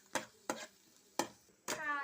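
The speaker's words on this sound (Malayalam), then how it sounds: "ഉള്ളി നമ്മൾ പൊരിച്ചെടുക്കുന്നുണ്ട്" Onions fry for egg biryani over a wood-fired stove, heard as four quiet, separate scraping strokes of a spatula through the pan, each a short burst with brief pauses between them.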